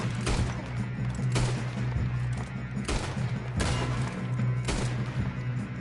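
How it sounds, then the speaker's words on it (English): Rapid bursts of gunfire in the Western video game Red Dead Redemption 2, several loud volleys and single shots cracking over a steady low rumble with no talking. "Shoot him. Shoot him."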